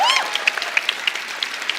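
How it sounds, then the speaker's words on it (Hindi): A studio audience on The Kapil Sharma Show breaks into brief, scattered clapping, opening with a short rising whistle before individual claps patter briefly. "इनके डैडी के लिए जोरदार तालियां।"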